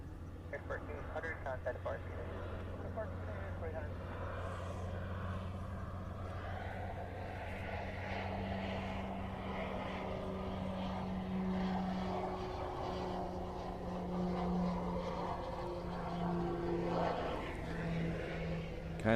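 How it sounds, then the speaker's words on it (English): A C-130 propeller transport aircraft drones steadily overhead at a distance, a low sustained engine hum with rising and falling harmonics that persists throughout, with people talking in the background at a Hawaii fighter exercise near an airfield. "I think there's a C-130 up there somewhere"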